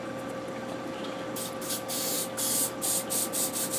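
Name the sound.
spray adhesive being sprayed onto fabric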